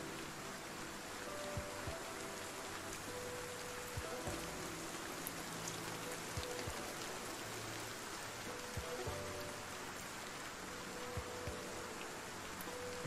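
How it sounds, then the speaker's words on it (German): Rain falls in Project Zomboid, a soft, continuous wash of noise with occasional small patters, steady and fairly faint throughout, with no voices. "Ja, ich sehe echt nicht weit, solange es regnet,"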